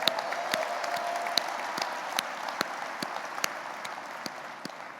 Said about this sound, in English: How about giving them another round of applause?